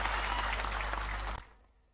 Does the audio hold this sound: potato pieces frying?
no